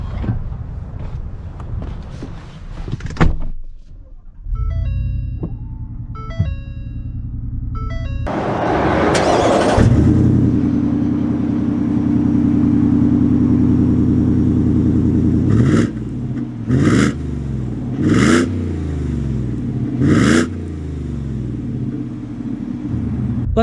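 A 2021 Ford F-150 RMT pickup cranks over and settles into a steady, loud engine rumble, then revs in several sharp bursts as it begins to drive off, with a few chimes and clicks before the start.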